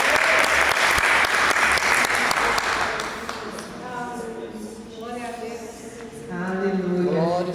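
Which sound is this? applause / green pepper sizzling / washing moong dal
applause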